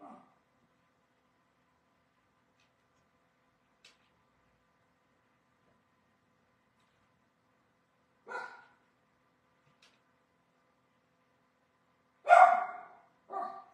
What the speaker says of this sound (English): Baxter, if he starts making your dogs bark, I'm so very sorry.